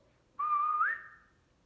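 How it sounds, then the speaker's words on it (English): A single clear whistle, held steady then sliding upward at the end before fading, alone against near silence. "the Drakos gave a whistle"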